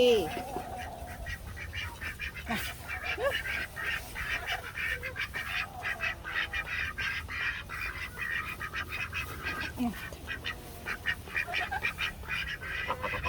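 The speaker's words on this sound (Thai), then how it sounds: "ชักแถวเป็ดเข้านอน" Ducks quack and honk repeatedly, close by, while someone talks over them in a calm, coaxing voice, herding them in a line to bed.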